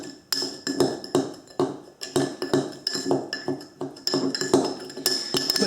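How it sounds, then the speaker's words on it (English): A spoon stirs bitters and sugar in a glass for an Old Fashioned, giving a quick, steady run of bright metallic clinks against the glass, close and fairly loud, with no voices. "So stir that around, kind of get that in."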